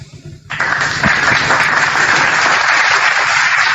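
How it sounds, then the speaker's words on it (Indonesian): An audience at a church gathering bursts into loud, sustained applause that starts abruptly and holds at full strength, with many hands clapping close together. "Tepuk tangan untuk Yesus"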